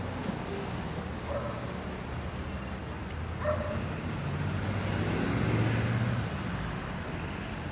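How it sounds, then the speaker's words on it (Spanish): A garbage truck pulls in on a town street in Taxco, its engine rumbling at a distance and building slowly, with a dog barking a few times nearby. "Ya llegó el carro."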